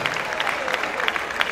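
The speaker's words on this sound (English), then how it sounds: "A round of applause for Mr." An audience at a university department's public lecture and fellowship award ceremony applauds steadily, a dense wash of clapping that holds for about a second and a half at moderate loudness.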